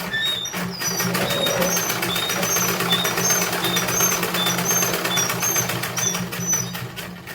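A sewing machine runs steadily while stitching a salwar waistband, its even, rapid mechanical whirr and clatter continuing unbroken for several seconds.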